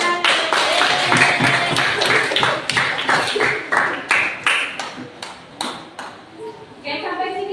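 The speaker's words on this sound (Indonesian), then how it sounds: "Tepuk Tepuk tangan" A class of children claps in rhythm during a lesson on respecting parents and teachers, sharp distinct claps in a quick regular pattern, with voices mixed in.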